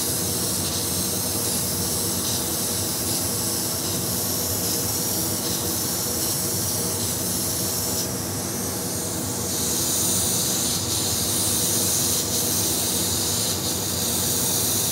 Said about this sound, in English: I'm just going to spray a base coat of this Molly Orange to get some coverage.